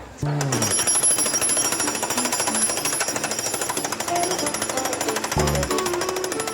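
A jackhammer pounds concrete in a rapid, relentless rhythm, loud and close, with brief pauses and a voice speaking over it.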